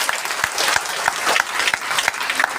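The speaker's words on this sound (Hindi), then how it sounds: "और आप लोगों के लिए भी एक जोरदार ताली होनी चाहिए।" A large audience clapping loudly and continuously, a thick even roar of hands with occasional distinct nearby claps, sustained from start to finish.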